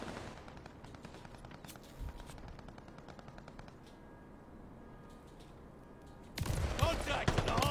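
Rapid automatic gunfire rattles through a competitive hardpoint match in a video game, fairly faint at first and then a louder burst near the end, with a player's voice and game announcements nearby.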